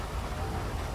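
Rainfall during a rainy night in the police game GTA V with the LSPDFR mod, a dense steady hiss of drops on surfaces, faint and continuous with no voices.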